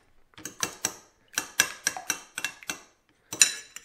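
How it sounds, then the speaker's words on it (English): A fork clinks against a bowl while whisking egg and butter together, a string of quick, close metallic taps and scrapes coming in uneven bursts with short pauses between them. "I'm gonna mix this all together here."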